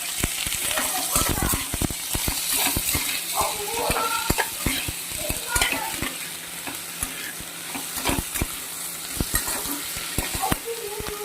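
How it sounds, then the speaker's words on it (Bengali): Potatoes fry with lightly browned onions in a pan, a continuous close sizzle broken by frequent scraping and clattering strokes of a spatula against the pan. "এর মধ্যে আলুটা দিয়ে আলুটাকে ভেজে নেবো লাল করে"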